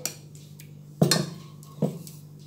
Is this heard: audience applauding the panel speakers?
no